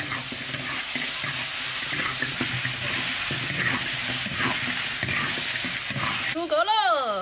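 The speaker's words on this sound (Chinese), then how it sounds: "给它炒香。" Pork trotters with ginger, garlic, chili and garlic sprouts sizzle loudly in a hot wok, a dense continuous frying hiss broken by scraping stirs, with a short wavering tone near the end.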